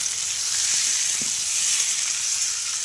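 Spice paste with salt and turmeric frying in a pan for egg curry, a loud, even sizzle with a few faint stirring knocks, no voices.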